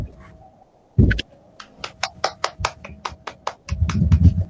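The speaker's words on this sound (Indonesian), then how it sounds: "Beri tepuk tangan terlebih dahulu untuk Amali" Clapping breaks out for a student group in a classroom, a short run of distinct claps, fairly close, that swells into a denser patter of many hands near the end.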